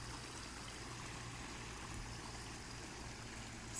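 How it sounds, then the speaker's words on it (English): Water trickles steadily over the rocks of a finished garden waterfall, a continuous soft splashing wash that stays even throughout with no voices. "Finally finished my waterfall."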